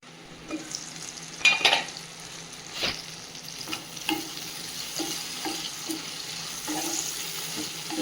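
Eggplant frying in oil, a soft steady sizzle under scattered clatter and a few sharper knocks, with no one speaking.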